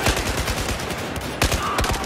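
Rapid bursts of gunfire from a firefight in Battlefield 4 in the Baku map, loud and close, with dense repeated shots running through the whole stretch and no talk over them.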